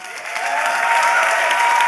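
Steady, dense applause from a large festival audience welcoming a speaker onstage at a design conference, loud and continuous with no voices over it.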